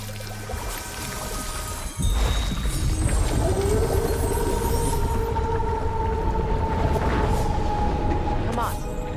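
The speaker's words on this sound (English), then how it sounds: "Try dragging the scepter across the bell a few times." A scepter dragged across a bell in God of War Ragnarok gives a thump followed by a long, sustained metallic ring that slides and wavers in pitch over steady game ambience.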